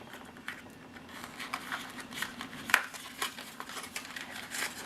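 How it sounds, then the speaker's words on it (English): Plastic bag being pulled off parts of a Tamiya Volvo FH16 750XL RC truck kit, giving soft crinkling and rustling with a few sharper snaps, close and fairly quiet. "Pop the plastic bag off of this"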